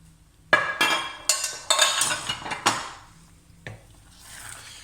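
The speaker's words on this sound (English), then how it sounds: "So in goes the aubergine." Aubergine pieces tip into a pan of peanut coconut curry, with several sharp clattering knocks against the pan and utensils in quick succession, then a quieter tail of soft settling and faint bubbling.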